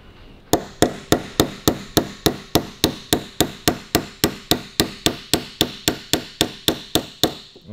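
A punch is hammered through a Harley WLA roller tappet lifter, about twenty-two sharp metallic blows in a steady, evenly spaced rhythm, close and loud with nothing else heard.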